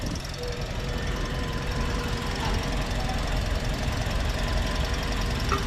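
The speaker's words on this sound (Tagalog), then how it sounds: "hayaan nyo lang na naka-idle siya mga 5 minuto" Engine of a 2025 Toyota Vios idling during an oil change, a steady continuous low rumble with a faint knocking texture, close and unchanging throughout with no talk.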